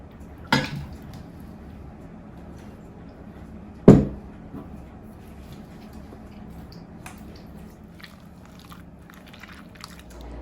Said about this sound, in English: Next, we will mash our strawberries.